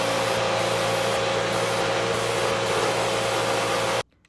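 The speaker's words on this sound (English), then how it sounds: "the vacuum that's not intended to suck up liquid" Vacuum cleaner not meant for liquids drawing fluid through a straw sealed with duct tape: a loud, steady rushing whine held for about four seconds, then cut off abruptly.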